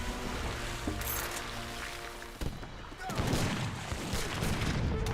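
Volleys of musket fire striking Janissary units in the Age of Empires 3 video game, crackling shots and booms rolling on under a commentator's voice.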